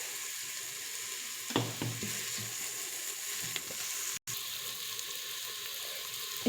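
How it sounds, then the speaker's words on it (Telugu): Onions fry in a pot on the stove, a steady close sizzling hiss with a couple of brief stirring scrapes and clinks, heard alone without talk. "ఇప్పుడు కొంచెం ఆనియన్స్ అనేవి వేగిపోయి చూస్తున్నారు కదా"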